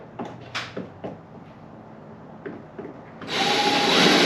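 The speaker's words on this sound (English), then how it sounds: "Those 3 pop rivets we just drilled out just to get this part off." A power drill bores out pop rivets holding a car bumper: a few sparse knocks and clicks, then a loud, steady whirring grind starts near the end and runs on, close up.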